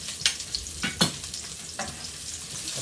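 Garlic and chilies frying in a pan for spaghetti all'assassina, a soft even sizzle with a handful of brief scraping stirs in the first two seconds, close and unaccompanied by talk.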